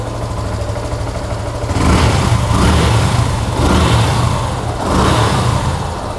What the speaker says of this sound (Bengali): বাইকটা কিন্তু স্টার্ট করা হয়েছে।